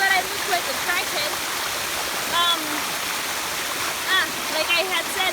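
A waterfall in San Antonio rushes steadily as a broad, continuous wash of water noise, with birds chirping over it and no talk.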